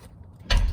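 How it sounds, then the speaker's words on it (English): The driver's door of a Porsche Cayman opens with a brief mechanical latch click and a soft thud, short and close. "open up the door"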